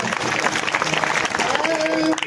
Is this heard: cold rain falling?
no